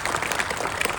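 A brief burst of audience clapping, dense and even, fills a single second at moderate loudness.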